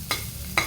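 Ginger fries in a pan with a constant soft sizzle, while two quick scrapes of a utensil stir it, close by and with no talking.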